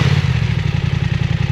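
A BMW F 900 R motorcycle with its standard exhaust idles close by, a low, even pulsing throb with a slight throaty edge and no talking.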